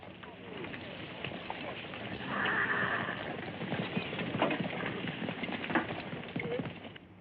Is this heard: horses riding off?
yes